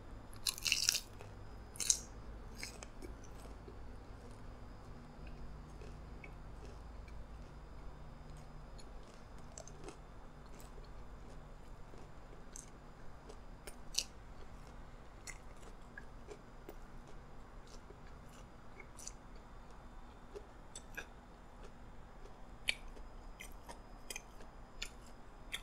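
Crunchy garlic parmesan boneless chicken wings from Wingstop being eaten up close, with scattered crisp bites and soft chewing over a quiet steady background for the whole stretch, no talking.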